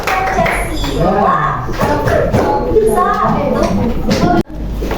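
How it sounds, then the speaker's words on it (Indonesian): Children in a classroom chant the Tepuk Pancasila clap rhythm, their voices loud and close, with sharp hand claps punctuating the group chant and a final abrupt clap near the end. "Tepuk Pancasila."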